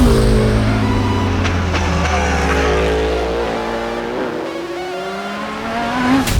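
GTP-class race cars at speed on the Daytona high banks, one loud engine note sweeping and shifting pitch as it passes near, with a whining tone fading out.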